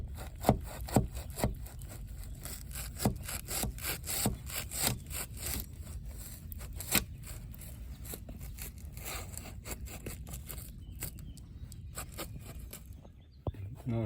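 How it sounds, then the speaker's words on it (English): A serrated knife blade saws back and forth through excess cured expanding foam while a rotted windowsill is repaired. Close, raspy strokes repeat irregularly for the whole stretch, each with a sharp scratchy bite, and faint speech sits in the background. "Got this knife with a serrated blade I'm gonna use to cut out the excess foam."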